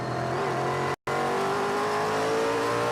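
Mercedes AMG GT3 race car heard from on board at Circuit of the Americas, its engine droning loud and steady with a brief total dropout near one second before the roar resumes.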